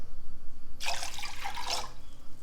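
Apple cider vinegar poured into a pot of pickling liquid on a kitchen stove, a bright, steady splashing stream lasting about a second, close and clear over a quiet background.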